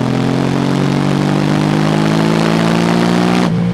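KTM 790 Duke mid-size roadster motorcycle engine running at high revs, a loud steady buzzing drone held for several seconds before dropping off sharply at the end.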